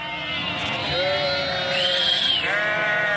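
Several lambs bleat over one another, loud and close, in overlapping high wavering calls with a busy background, at a livestock sale.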